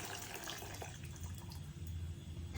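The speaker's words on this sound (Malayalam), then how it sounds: "അപ്പൊ ഇനി അമ്മ അതിലേക്ക് പുളി ഒഴിക്കാൻ പോകുന്നു" Tamarind water is poured into a simmering green pigeon pea curry in a home kitchen, making a faint, continuous trickle and splash with no voices.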